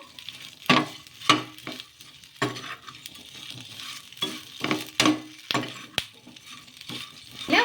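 Spices stir-frying in a pan for a Telugu snack recipe: a spoon scrapes and clinks against the pan in irregular strokes over a soft, steady sizzle, close and clear with no talking.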